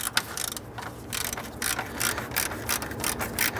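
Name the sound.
1/4-inch ratchet with 8mm socket loosening a bolt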